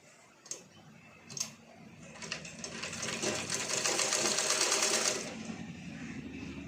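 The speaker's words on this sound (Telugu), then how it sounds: "మిషన్కి ఇట్లా అనుకొని ఈ మధ్య భాగంలో నుండి కూడా మనము ఇట్లా మడత ఇట్లా చిన్నగా ఇట్లా కుట్టేసుకోవాలి." A sewing machine stitches a small fold in the middle of a piece of fabric, starting with a couple of sharp clicks, then running in a steady whirring hum that builds and holds before slowing, close and with no talking.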